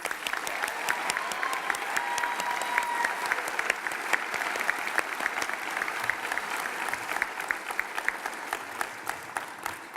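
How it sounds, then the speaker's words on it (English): Sustained applause from a seated audience at a 2019 commencement ceremony, dense clapping steady for the full stretch with no voices over it. "Let's give them a round of applause."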